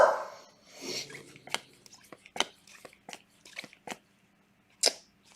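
A dog gives a few faint barks in the background of a room where baseball card packs are being opened, mixed with rustling, clicking and handling noises.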